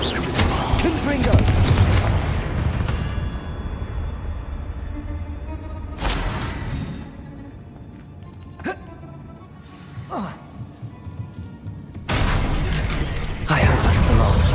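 Spell blasts and booming bursts ring out in a Hogwarts Legacy battle against spiders, loud broadband explosions separated by quieter stretches with sharp pops in between, while a voice speaks over the action.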